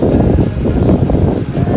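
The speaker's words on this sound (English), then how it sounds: "Windy as hell out here right now" Strong wind on the Great Allegheny Passage trail after a storm, buffeting a nearby microphone in constant low rumbling gusts.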